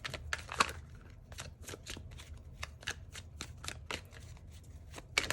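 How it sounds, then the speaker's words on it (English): Tarot cards being shuffled by hand, a run of crisp riffling bursts in an uneven rhythm, close and fairly quiet, with no talk. "I'm going to keep shuffling"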